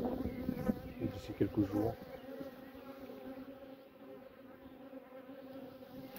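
Honeybees buzz steadily around a hive as it is closed up, a dense insect hum with a few louder close passes early on, then a softer continuous drone. A voice speaks briefly.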